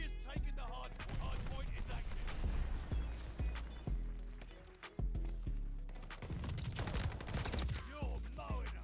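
Rapid, sustained LMG machine gun fire in Call of Duty: Vanguard, dense bursts of shots running almost continuously with a brief break midway, loud and close.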